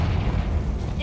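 A Confringo blasting spell goes off in the Hogwarts Legacy video game, a dense, sustained low booming roar filling the short moment at steady loudness.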